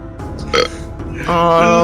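A loud, close burp rumbles out in a single drawn-out belch during a tabletop Dungeons & Dragons game session, with a brief vocal sound before it.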